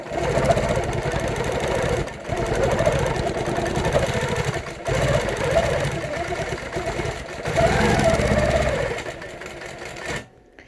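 A quilting machine stitching in the ditch, its rapid needle hum running in long bursts with brief pauses between them, loud and close, then stopping at the end.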